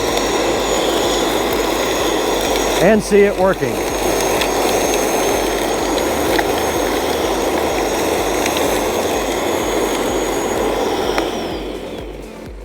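An electric lawn dethatcher and scarifier drones with a steady, loud motorized whir throughout while running outdoors on a lawn, with a voice briefly speaking over it.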